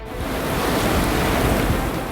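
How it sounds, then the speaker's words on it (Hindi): Loud, steady roar of high Arabian Sea surf whipped up by Cyclone Biparjoy off the Gujarat coast, broadband crashing water with wind blowing across the microphone throughout, no voices. "अरब सागर में उठी ऊंची ऊंची लहरें इंसान के मन में दहशत भरने के लिए काफी थी"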